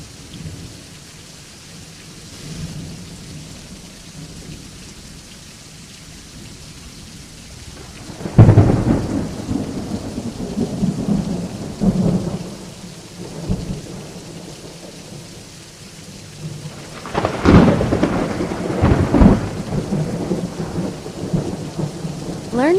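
A thunderstorm with steady rain on surfaces and several deep rolling thunder claps, two loud peaks standing out over the continuous patter of rain, with no voices.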